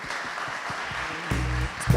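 Applause rises from a conference audience welcoming a Google presenter at a Brazilian games-business event. It is a short, moderately loud wash of clapping, with a low hum or thump near the end.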